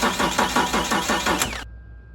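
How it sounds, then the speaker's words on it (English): A BMW E46 with an M54 engine cranks without catching, the starter giving about six rhythmic, close churning pulses before cutting off abruptly. "the issue we're having with this car is it turns but it doesn't start"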